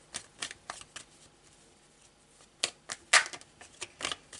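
Tarot cards being shuffled by hand in quick bursts of crisp riffling and flicking, close and fairly quiet, with short pauses between rounds and a louder flurry near the end.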